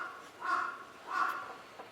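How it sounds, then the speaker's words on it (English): A crow caws in two separate bursts about half a second apart, moderately distant over a quiet outdoor background, with a faint third call near the end. "There's a crow."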